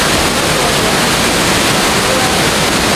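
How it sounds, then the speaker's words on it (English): Tamanique Waterfall in El Salvador, a loud, unbroken roar of falling water filling the whole soundscape at close range, steady and dense with no pauses. "we are here at Tamanique Waterfall."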